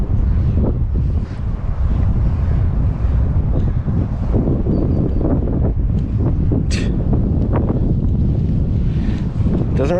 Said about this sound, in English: Where'd this wind come from, man?